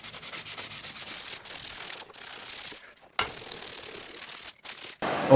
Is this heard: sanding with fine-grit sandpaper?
yes